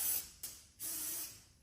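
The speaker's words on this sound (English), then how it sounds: "Adding a very quick spray of Lysol in my everyday routine" A Lysol disinfectant spray from an aerosol can gives a quiet hiss, then a tiny puff, then a longer steady spray of nearly a second, close by with no talking.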